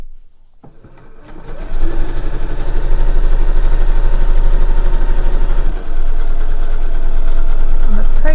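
An electric sewing machine stitches around the edge of a festive fabric cushion cover, its motor spinning up after a soft start into a loud, steady, rapid needle chatter close by, easing briefly near the end.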